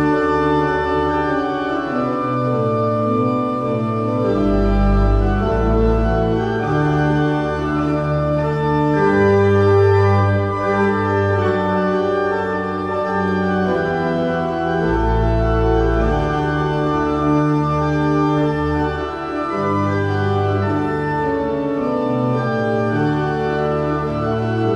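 John Stanley's Trumpet Voluntary: stately baroque processional wedding music with a bright trumpet-like lead over sustained organ bass, playing continuously and loud.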